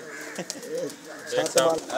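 Pigeons coo on a village rooftop loft kept for high flying, the soft calls rising and falling over a background where people talk nearby.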